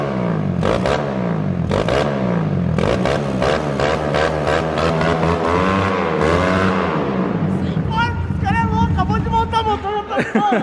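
A small Honda Titan 150 motorcycle engine revs up and down repeatedly, its pitch climbing and falling, with people talking loudly over it close by.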